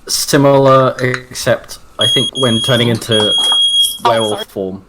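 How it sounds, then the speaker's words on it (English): A home fire alarm beeps in high, repeated short tones behind someone talking over a tabletop role-playing game session, with the beeps mostly buried under the steady speech. "Sorry, that's my fire alarm."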